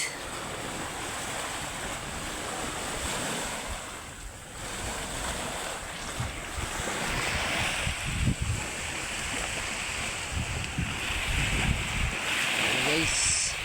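Sea surf washing onto a Palawan shore, a steady broadband wash with swelling surges, mixed with wind buffeting the microphone throughout.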